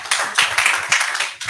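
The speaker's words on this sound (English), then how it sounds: "Another round of applause for him, please." An audience at a national dialogue event on education and budgeting claps together, a short burst of close, fairly even hand-claps at moderate volume with no voices over it.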